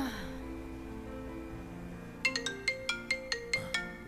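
A mobile phone ringtone plays in a scene from an Uzbek TV drama series, a quick run of bright, evenly spaced electronic tones over a sustained musical bed, moderately loud and close.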